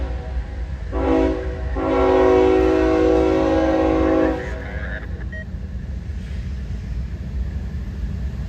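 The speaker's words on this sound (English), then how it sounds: "Once again, another train materialized out of nowhere." A freight train rumbles past steadily while its horn sounds, a short blast followed by a long sustained chord, fairly loud over the rolling wheel noise.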